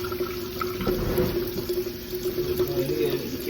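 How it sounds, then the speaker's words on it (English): Tap water runs steadily into a kitchen sink while hands are washed during turkey roll preparation, a continuous moderate splash and hiss with slight fluctuations, fairly close. "I'm just gonna wash up my hand so that I can get it."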